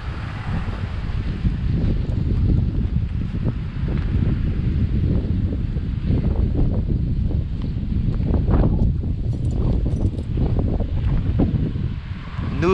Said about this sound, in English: A good wind breeze.